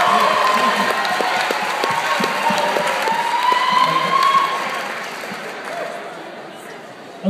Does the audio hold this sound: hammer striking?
no